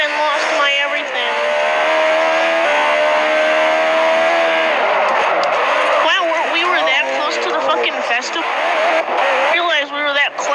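Car engines in Forza Horizon drone and rev, a sustained racing engine tone that shifts pitch as the car accelerates, with someone talking loudly over the gameplay.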